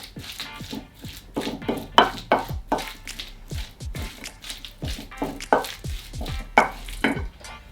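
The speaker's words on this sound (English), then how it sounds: "grab ourselves a wooden spoon and give this a good mix" Black beans and chipotle sauce stirred with a wooden spoon in a pan, giving a run of close, irregular scraping and thick wet squelching strokes with soft knocks against the pan.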